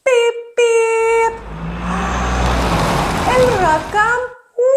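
Cartoon-style car horn beeps in an Arabic children's nursery song, several tonal honks in a row at the start and end, with sung and spoken vocals and a low rumble running underneath.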